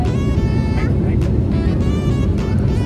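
Steady, loud broadband roar of an airplane cabin on a Pune to Kochi flight, a constant drone filling the whole clip with faint voices murmuring beneath it.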